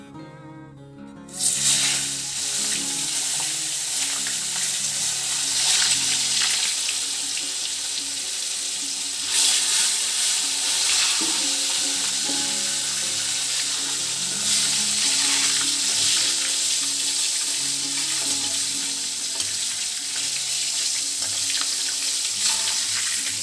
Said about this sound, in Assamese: মাছখিনি আপোনাৰ বৰ বেছি দেৰি ফ্ৰাই কৰিব নালাগে, অকণমান টান হোৱা দিছোঁ উলিয়াই দিছোঁ।